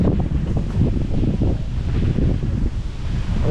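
Strong wind at a campsite in Cavinti, Laguna: a loud, continuous, gusty rumble buffeting the microphone, with rustling mixed in and no speech.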